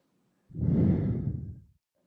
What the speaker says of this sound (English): Let's take 5 deep breaths here.